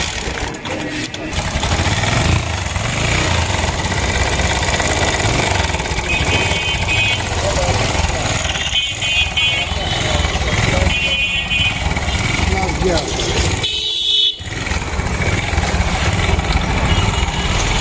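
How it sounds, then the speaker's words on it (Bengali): A Bajaj Boxer motorcycle engine runs after its clutch assembly has been refitted, holding a steady, loud, close rumble throughout with a brief dip near the end. "আমরা বাইকটাকে স্টার্ট দিয়ে আমরা ক্লাসটা কেমন কাজ করছে"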